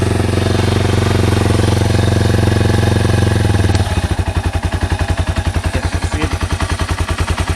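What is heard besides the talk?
Yamaha TW200 motorcycle engine running at idle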